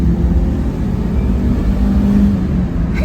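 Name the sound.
turbo Mitsubishi Townbox engine at full throttle uphill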